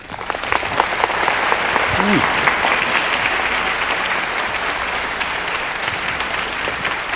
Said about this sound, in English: let's give our warmest applause to Mr. Arnett